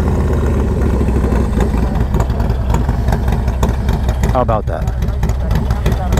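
A warm Stage 2 Harley-Davidson V-twin idles with a close, steady, lumpy throb. A voice speaks briefly over it.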